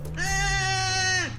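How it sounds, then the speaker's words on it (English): A goat in the video game Goat Simulator lets out one long, loud, drawn-out bleat with a nasal, harmonic tone, close up and heard alone without any talk. "You hear that? That's the goat"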